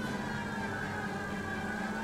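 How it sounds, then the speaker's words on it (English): A commandeered vehicle's siren wails in the L.A. Noire game, steady and loud over engine hum with no talk, lasting only a couple of seconds. "how did I all of a sudden get a siren?"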